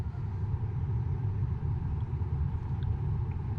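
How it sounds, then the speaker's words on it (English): A 1.8-liter turbo engine in an MK4 Jetta, being repaired, runs with a steady low rumble and idle, fairly close and continuous, with a couple of faint electronic beeps in the background. "I'm going to start the car."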